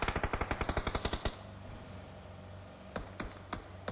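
Minigun fire in a video game: a rapid, evenly spaced burst of loud shots for over a second, then a lull and a few scattered shots near the end.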